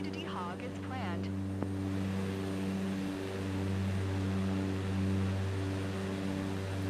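Steady drone of a Cessna light aircraft cruising at 14,000 feet in Microsoft Flight Simulator 2024, a constant low engine hum with harmonic bands, with a brief radio voice early on.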